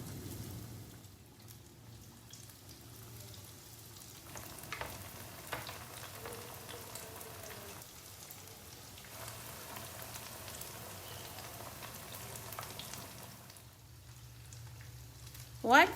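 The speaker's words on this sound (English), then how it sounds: "I'm going to deep fry the banana." Banana pieces deep frying in hot oil for crispy fried banana, a steady soft crackling sizzle running throughout with no talk, ending in a brief louder clatter.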